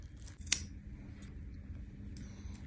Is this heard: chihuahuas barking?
no